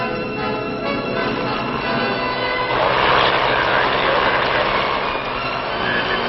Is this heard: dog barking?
no